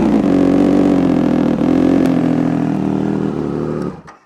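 A Triumph Speed Triple 1200 RS naked motorcycle engine runs loud and close with a steady, throaty rumble, dipping briefly once before cutting off sharply at the end. No one speaks.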